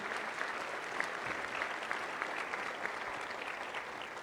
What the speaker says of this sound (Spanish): Otro aplauso para Luis